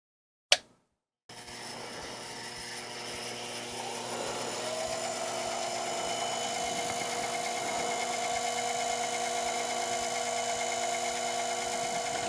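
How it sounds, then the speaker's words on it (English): A metal lathe turning a faceplate, starting with a sharp click and then a steady whirring motor hum that keeps going to the end while a cutting tool takes a light pass. "So I'm just going to quickly turn that defect off of the faceplate."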